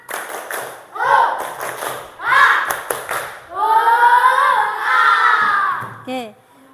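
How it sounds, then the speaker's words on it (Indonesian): Fourth-grade pupils repeat a rhythmic spirit clap in their classroom, loud group chanting and shouting interleaved with crisp clusters of claps and thumps, ending with a short final shout. "Sekali lagi, tepuk semangat."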